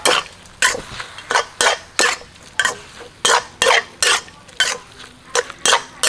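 Chicken with sliced lemongrass, torn kaffir lime leaves and basil is stirred in a hot pan, a spatula scraping and clacking in quick repeated strokes over a soft sizzle, close and loud.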